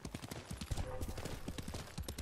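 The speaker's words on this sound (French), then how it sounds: "on va appeler le cheval déjà" Horse hooves in the Ghost of Tsushima video game, a quick run of close clip-clop beats in a brisk rhythm with a short whinny-like tone partway through.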